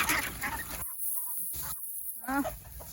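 Large male ducks honk and squawk in short bursts close by, with gaps of quieter background between calls.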